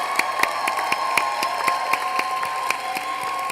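Audience applause at an awards ceremony honoring alumni, steady clapping from a crowd with sharp individual claps standing out over a constant hum, fairly distant.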